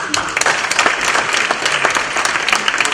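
Audience at an academic conference awards ceremony applauds a bronze prize winner, dense steady clapping from a crowd filling the room throughout, loud and close.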